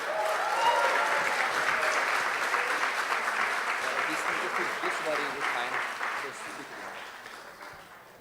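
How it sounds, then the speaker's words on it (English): Sustained audience applause at an Earthpreneurs 2018 event, a dense, steady clapping that fills the whole stretch and slowly fades toward the end. "Give him an applause."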